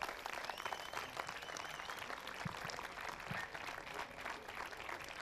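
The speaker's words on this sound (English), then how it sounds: "Please, big hand of applause for Mrs. Monique van Bremt from Belgium." Steady applause from an audience greets a judge at the opening ceremony of a dog show in Split, Croatia, a continuous dense clapping that holds at moderate loudness throughout.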